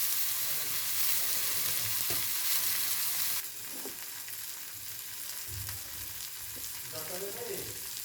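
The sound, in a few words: boiled soya chunks added to pan and stirred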